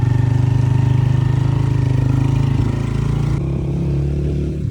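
A motorcycle engine runs at a steady, loud drone close by on a bike ride near Mailsi, holding even for several seconds before shifting slightly and cutting off at the end.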